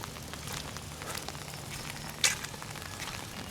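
Steady rain patters down over a paved village road near a house with a fruiting papaya tree, a soft continuous hiss with one sharp brief tick partway through.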